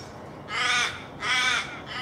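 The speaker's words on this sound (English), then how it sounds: "Is that a bird? It is a bird." A crow caws twice outdoors, two clear, harsh calls close together over faint background ambience, with no talking.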